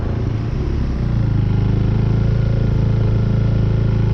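KTM 390 Duke single-cylinder motorcycle engine with a stalling problem runs at a rough idle, a loud, close, steady low thrum with uneven pulsing and no voices.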